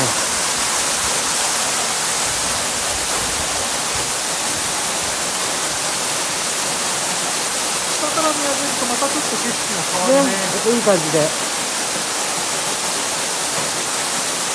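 Kuroyama Three Waterfalls pouring down, a loud, steady broadband roar of rushing water close by, with a person's brief speech rising faintly over it near the end.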